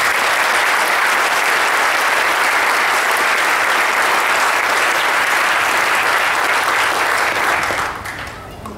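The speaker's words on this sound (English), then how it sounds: "can we give them a round of applause, please?" A crowd at a graduation ceremony claps in sustained, loud applause that carries on for several seconds before tapering off at the end.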